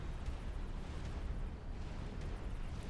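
Artillery is destroyed in the strategy game Supreme Commander: Forged Alliance, a continuous deep rumble of explosions and bursts that stays loud throughout.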